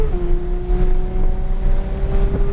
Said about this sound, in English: give it the gas. And accelerate.